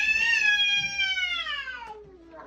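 A house cat lets out a long, loud, drawn-out yowl during a fight with its brother, the tone sliding slowly downward and ending in a short, strained cry, heard close and with no voices.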